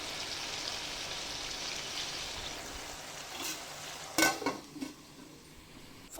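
Chicken curry is stirred in a cooking pan with a faint scrape and hiss, then a few louder metallic clinks of the spoon against the pan near the end.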